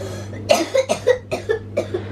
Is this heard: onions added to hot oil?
no